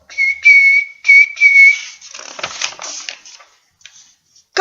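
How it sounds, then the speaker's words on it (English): A guard's whistle blown in an aquarium, two sharp shrill blasts followed by scattered crunching and clattering noises that fade out, loud and close with no talking. "He blew his whistle."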